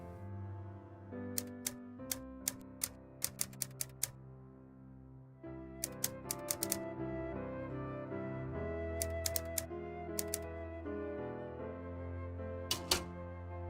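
Clusters of sharp, mechanical typewriter-like key strikes clack in uneven bursts over a steady musical background, with pauses between runs of typing while a letter is written.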